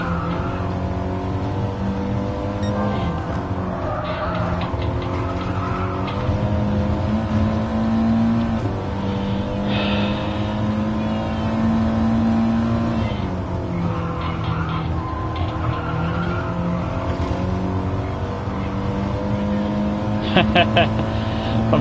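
A Gr4 race car laps Brands Hatch in Gran Turismo, its engine droning steadily with rising and falling revs through gear changes, tyres squealing briefly, loud and continuous under a commentator's voice.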